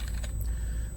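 Quick, light keystrokes patter on a computer keyboard close by, a short burst of taps over a low steady hum.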